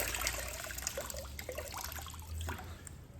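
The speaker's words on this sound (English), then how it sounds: "I'll basically wring it out till there's nothing dripping out of it." A wet cleaning rag used in prepping an XC Falcon's rusty body is wrung out, giving a faint, quiet trickle and dribble of water with no talk.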